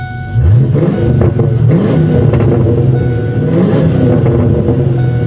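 A 1997 Ford Mustang GT V8 revs up hard after a quick start, loud and close, with the engine note climbing and falling through several throttle blips and then settling into a rough idle.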